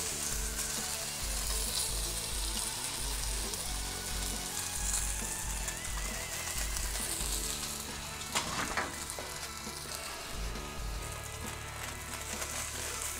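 Salmon sizzles steadily in a hot pan, a dense continuous frying hiss with a brief louder crackle midway, close and alone with no voices.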